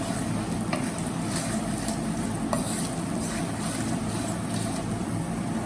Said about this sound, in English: cinnamon, black peppercorn, and go on stirring.